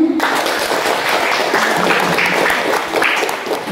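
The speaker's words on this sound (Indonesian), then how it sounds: "Tepuk tangan buat kita semuanya" A crowd of students and Buddhist community members claps together at a gathering in Kundur, dense and sustained applause that fills the space, with a faint voice underneath.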